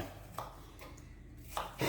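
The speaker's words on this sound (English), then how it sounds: "we're gonna keep on chopping and getting that ready to go" Knife chopping apples on a cutting board, a few separate crisp cuts spaced irregularly, close and fairly quiet, with no talking.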